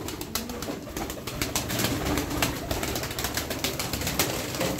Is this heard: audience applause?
no